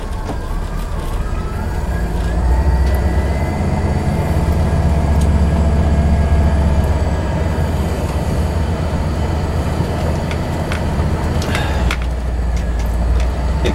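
A motorhome's power steering, low on fluid, whines thinly and faintly above a steady, loud rumble of engine and road noise. No one speaks over it.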